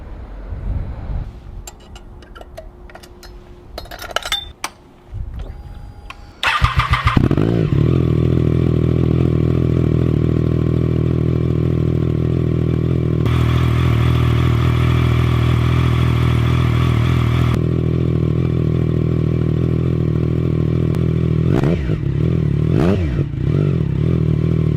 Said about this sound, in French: voilà le bruit que ça fait sans la chicane